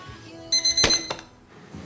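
An alarm clock goes off with a short bright metallic ring and clinking tones, loud and close, lasting under a second before fading into quiet.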